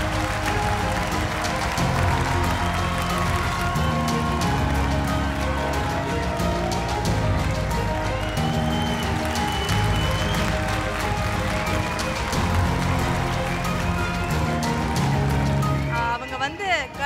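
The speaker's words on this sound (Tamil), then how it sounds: "ஒரு பலத்த கைத்தட்டலோடு பாரதி ஸ்ரீதர் மேம் அவர்களை அன்போடு மேடைக்கு அழைக்கின்றோம்" Sustained, loud applause from an award ceremony audience runs through the whole stretch, a dense rain-like patter with music-like tones underneath, fading slightly at the end.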